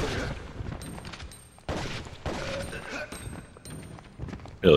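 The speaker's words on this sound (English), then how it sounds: "Okay, Mammoth's gonna shotgun." In the Resident Evil Outbreak video game, a character fires a shotgun: sharp, loud blasts punch through at intervals amid game noise and background clatter.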